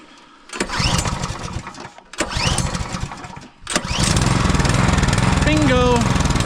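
Three attempts to start a Duramax 212cc bi-fuel small engine: a starter cranks in two short bursts, then the engine catches on the third and settles into a steady, loud, close idle chugging. A brief voice cuts in near the end.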